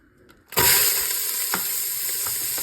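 Onion and celery dropped into hot avocado oil, a sudden loud sizzle that settles into steady close frying with a few soft stirring clinks.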